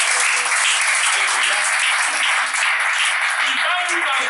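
Congregation applauding to welcome a pastor at a collective fasting and prayer gathering, continuous loud clapping from a crowd throughout, with faint voices mixed in.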